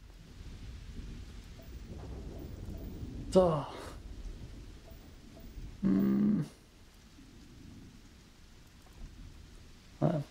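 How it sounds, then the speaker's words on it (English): Rain and rumbling thunder from the Starfield video game during a planet survey, a steady wash of rain with a couple of short loud thunder cracks, under a man's brief speech. "Oh, that's in-game thunder."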